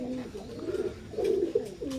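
Imported-bloodline teddy pigeons, Oman blood line, coo in soft, rolling phrases, several close, low throaty calls repeating over a couple of seconds.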